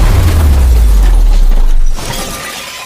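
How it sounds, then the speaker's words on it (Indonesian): A heavy, loud car crash with deep low rumble and shattering glass, fading into quieter debris and settling noise after about two seconds. "Hingga akhirnya mobil yang ditumpangi Tuan Mori mengalami kecelakaan."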